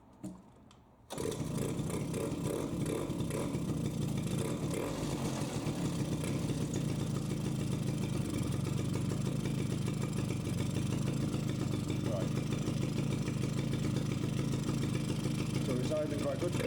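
A Suzuki LT50 quad engine idles steadily after a carburetor cleaning, starting after about a second and holding an even, busy putter at moderate loudness all the way through.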